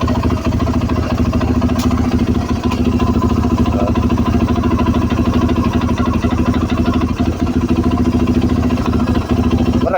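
A 2013 Yamaha YZ450F motorcycle with a broken clutch lining idles close by, a loud, steady, even engine note that holds unchanged for ten seconds.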